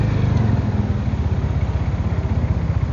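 An older Sigma 250 motorcycle engine pulses loud and near with a rapid, even low thump, steady and unbroken on a night ride, with no voices.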